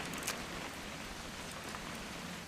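Steady rain hisses softly across surfaces in the video game What Remains of Edith Finch, an even, faint wash with no voices.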